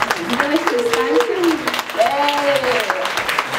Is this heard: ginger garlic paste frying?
no